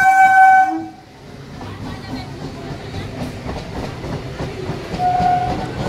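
A train blasts its horn loudly at the start, then rolls past with a steady, rumbling clatter of wheels and cars, and the horn sounds again briefly near the end.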